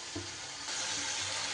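Ground spices with a splash of water frying in a pan for a fish curry, a steady soft sizzle with faint stirring scrapes, close and quiet, no voices.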